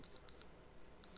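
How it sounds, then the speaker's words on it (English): An alarm clock going off at four in the morning: three short, high electronic beeps, two in quick succession and a third after a pause, clean and moderately faint. "At 4 in the morning, when Bill's alarm goes off"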